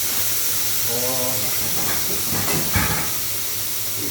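Steam hisses from a pressure cooker of pickle-style chicken as its whistle is lifted, a steady close hiss with a brief louder burst near the end, and faint voice traces underneath.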